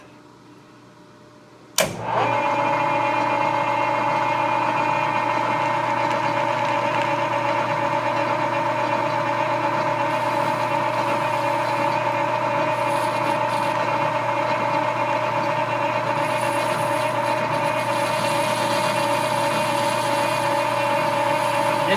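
A lathe starts up suddenly and takes cutting passes on steel spring perch sleeves, fed by hand, holding a steady loud whirring drone with a faint shifting scrape of the cut over it.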